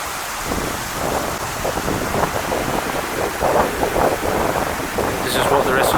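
Steady rushing wash of water pouring into drain holes in an outdoor public area by a river, a broad continuous roar mixed with wind buffeting the microphone, close and loud throughout.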